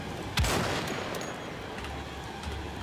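Sniper rifle fire in the video game Wolfenstein: The Old Blood, a single loud, sharp report followed by a decaying echo over steady game ambience.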